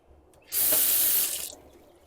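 A tap on an outdoor kitchen sink with hot and cold water opens and runs in a bright, hissing stream for about a second before easing off.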